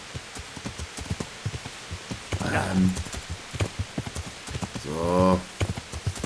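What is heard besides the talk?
horse hooves riding through rain, video game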